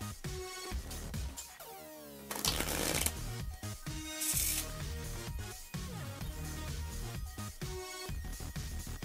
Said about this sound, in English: and then you'll shuffle it up.